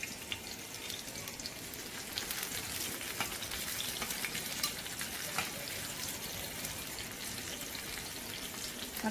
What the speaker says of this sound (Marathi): आता या बाजूने देखील आपल्याला 1-2 मिनिटं अशाच या फ्राय करून घ्यायच्या आहेत